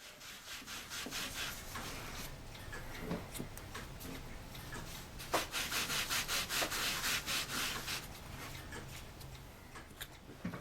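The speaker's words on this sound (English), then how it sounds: "I just love these sanding sticks, these sanding sponges." Rhythmic scraping strokes of a sanding sponge on wood for a model ship, quick back-and-forth rubs at close range, sometimes pausing and resuming, with no speech.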